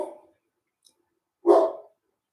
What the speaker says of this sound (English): Oakley, sorry, Doofus dog was barking there.